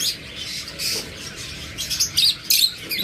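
A pair of lovebirds chirps and squawks in short, sharp bursts, busier toward the end, with no talk over them.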